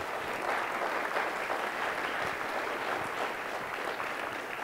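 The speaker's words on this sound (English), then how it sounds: "Please give them a round of applause." Steady, dense applause from a school auditorium audience at a board of education candidate forum, continuous and even at moderate level throughout.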